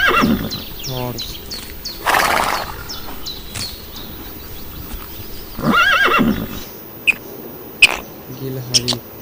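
A horse whinnies loudly twice, with clip-clop hoof sounds and a few sharp clicks mixed in, heard close and clear.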